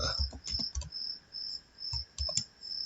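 Computer keyboard keys are tapped in short, uneven bursts of soft clicks at close range while writing Python code, with a steady high electronic whine running underneath.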